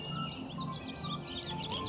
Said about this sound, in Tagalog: Maririnig mong daming ibon dito.